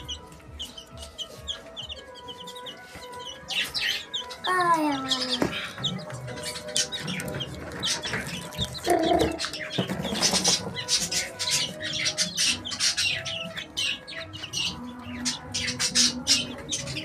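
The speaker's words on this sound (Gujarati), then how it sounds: "ટર્કી જો ટર્કી." A turkey at a zoo gobbles in a few loud, warbling bursts among clucking fowl, with scattered chirps and a flutter of wings nearby, and no voices heard.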